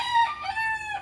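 Gamefowl rooster crowing close by, one loud drawn-out call with a wavering pitch that fills the short moment alone.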